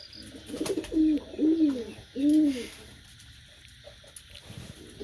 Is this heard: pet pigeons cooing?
yes